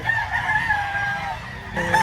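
A brush back rooster crows once in a drawn-out, tonal call at a breeder's farm in Lipa, Batangas, close and clear, with another short crow starting at the end.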